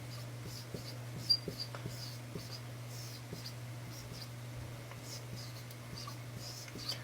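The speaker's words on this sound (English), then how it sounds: "So we can kind of draw it like this." A marker draws a diagram on a board with faint, irregular scratching strokes and small taps over a steady low electrical hum, with quiet breathy vocal sounds in places.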